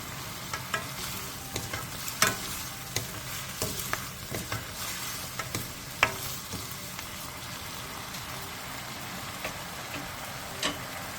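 Korean side-dish seasoning simmers and is stir-fried over medium-low heat in a pan, giving a continuous soft sizzle. Occasional clicks and scrapes come from stirring, and no one speaks.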